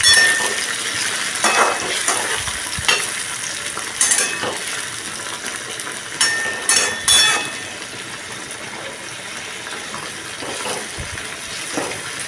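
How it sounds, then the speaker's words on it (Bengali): Parshe fish simmering in a mustard curry is gently stirred in a pan. Loud, close frying and bubbling carries a cluster of spoon scrapes and clinks early on, then settles into a steady simmer. "এবারে মাছগুলোকে আমি হালকাভাবে একটু নাড়িয়ে দিচ্ছি।"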